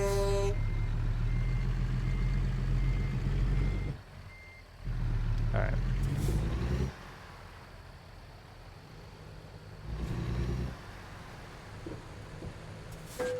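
A truck in a video game backs up with a repeating electronic reversing beep over a low engine rumble, while a player talks and reacts over the game sound.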